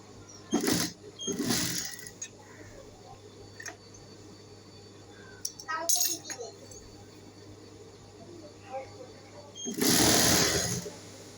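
A sewing machine stitches the side seam of a baby frock in short bursts, two quick runs early, a brief one mid-way and a longer run near the end, with quiet handling between.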